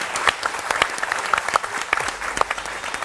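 Studio audience at a Hindi film talk show claps in a loose, uneven patter: individual sharp hand claps stand out from a thin crowd, fairly close and steady.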